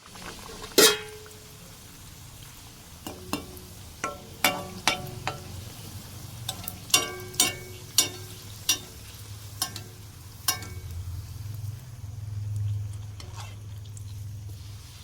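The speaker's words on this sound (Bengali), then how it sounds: "চলুন এবার লুচিগুলো ভেজে নিই" Luchi flatbreads deep-fry in hot oil with a soft, steady sizzle, broken by a series of sharp utensil clinks and taps, and a swelling bubbling rush near the end.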